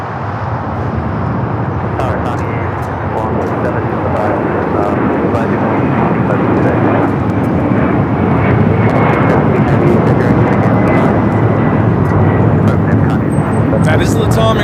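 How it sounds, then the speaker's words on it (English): LATAM Airlines flight 2479 jet taking off from LAX bound for Lima, a loud, sustained broadband engine roar that holds steady for the whole stretch, with faint talk underneath. "That is Latam Airlines 2479 taking off to Lima"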